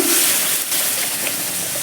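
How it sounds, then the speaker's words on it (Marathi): Milk is poured from a small bowl into a pan of roasted ingredients while making prasad, a steady, loud splashing rush of liquid that runs the whole moment without a break. "आता यामध्ये आपण दूध घालून घ्यायचं आहे"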